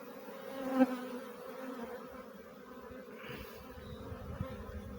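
A honey bee swarm hums continuously, a steady dense buzzing of many insects that stays close and fairly even throughout, with small swells in loudness.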